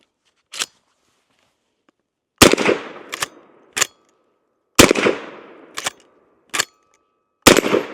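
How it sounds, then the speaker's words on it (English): Smith and Wesson 1854 Stealth Hunter lever-action rifle fired outdoors in five loud, sharp shots spaced a couple of seconds apart, each ringing out in a short echoing tail, mixed with quieter clicks of the action between shots. "let's go ahead and take a few more shots on it and see how accurate we can get with it"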